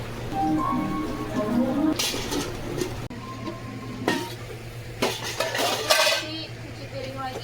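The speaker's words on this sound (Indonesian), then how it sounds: "Cuci piring lagi ya." Dishes and plates clinking and clattering during washing in a kitchen in India, a series of sharp irregular knocks over a steady background hum, with faint voices in the room.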